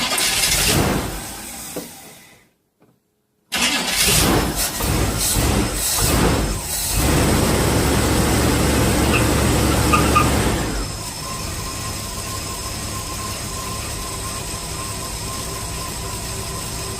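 A Chevy engine cranks with a rapid churning starter whir, pauses, cranks again and catches, then settles into a steady loud idle as the accelerator is pumped while the key turns; no voices.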